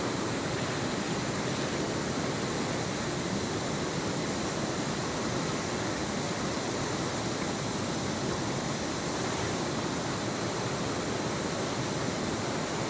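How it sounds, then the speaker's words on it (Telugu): Stream water flows steadily in a continuous dense rushing hiss, loud and unchanging from start to finish, with no other sounds. "వాటర్ చూడండి ఎలా వస్తుందో."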